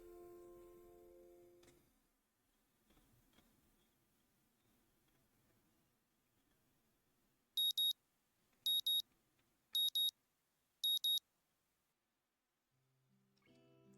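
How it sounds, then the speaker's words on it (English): Alarm clock in the visual novel game Katawa Shoujo beeping in four short, loud, evenly spaced electronic bursts after a quiet stretch, with soft music before and after. "The sound of my alarm is an unwelcome intrusion on my sleep"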